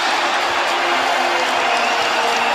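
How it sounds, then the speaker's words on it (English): Basketball arena crowd roaring and cheering as fans rise to their feet, a dense, steady wall of noise filling the space throughout. "And the crowd rising to their feet"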